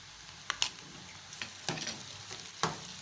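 Ginger garlic paste sautéing with onions and chilli in a pan, a soft steady sizzle broken by several crisp scraping stirs of a spoon against the pan, spaced irregularly.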